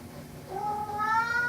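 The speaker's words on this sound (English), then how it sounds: "It's an old little kitty." An old diabetic cat gives a single drawn-out meow, close and fairly soft, rising into a clear, wavering cry.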